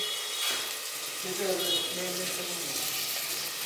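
Chopped tomatoes drop into a pan of onions already fried in oil, and a steady sizzle follows, close and moderately loud, with a brief hiss and stirring as they hit the hot fat.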